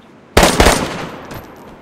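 Gunshot in the DayZ video game: a sharp loud crack followed quickly by a second shot, then a long fading echoing tail.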